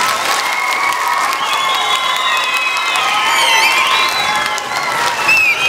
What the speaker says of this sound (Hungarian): Egy nagy tapsot nekik